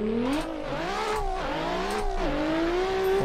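A 1000+ HP Nissan S15 drift car engine revs hard on a track run, its loud close howl rising and dipping in repeated swells with quick throttle lifts, no voices.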